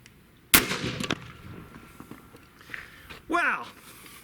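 A Zeus .72 caliber air rifle fires one sharp, loud report that fades quickly, followed by quieter handling sounds and a short voice.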